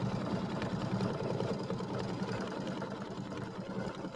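A sewing machine stitches quilt segments together in a steady, continuous whirring hum, near and fairly quiet, with no talking.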